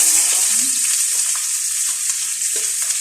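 Garlic sizzles and crackles in a hot oiled pan, a continuous bright hiss with occasional soft stirring scrapes and pops, close and fairly loud, with no talking.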